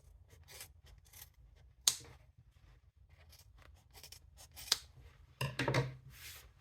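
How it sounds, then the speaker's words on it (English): Scissors snip through a very thick bag strap in a few separate crisp cuts, close and quiet, with soft rustling and handling between them. "So now we can cut the ends. I have a very thick strap. I'll have to cut it one at a time."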